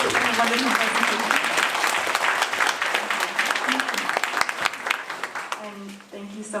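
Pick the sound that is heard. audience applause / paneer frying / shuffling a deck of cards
audience applause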